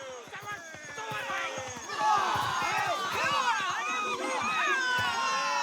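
A crowd murmurs and chatters in a game scene from Pillars of Eternity II: Deadfire, many overlapping voices with footsteps and scuffling underneath, steady and close throughout.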